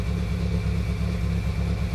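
A car engine hums steadily as the car arrives, a low continuous drone at moderate level with no voices over it.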